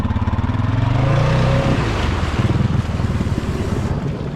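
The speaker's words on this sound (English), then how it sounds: "I'm gonna quickly back it into the water and see if it'll stall out." Honda Rubicon 520 ATV with a copper 90-degree mod, backing into water and stalling, its engine chugging loudly with splashing and wind-like rumble before the rhythm falters and fades.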